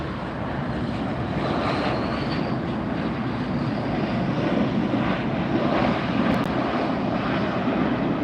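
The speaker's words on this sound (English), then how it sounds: "here's our Gulfstream touching down" A Gulfstream business jet touches down at LAX, heard from a hotel rooftop as a steady, broad engine roar that holds constant throughout without pause.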